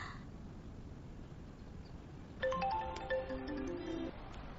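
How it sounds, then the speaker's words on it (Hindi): A phone ringtone for an incoming call plays a short melodic electronic tune of stepped tones, clear but modest in level, entering partway through over a faint background hum. "ओह मैंग, मुझे क्यों कॉल कर रही हो?"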